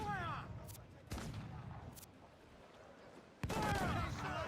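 Heavy ship cannon fire at sea in Assassin's Creed Black Flag, several loud booming blasts spaced apart with rumbling decay between them, the last one loudest.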